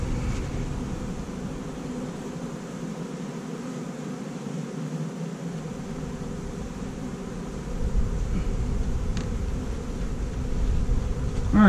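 Honeybees buzz around an opened backyard hive in an urban setting, giving a dense, steady droning hum that grows louder toward the end as the bees swarm close.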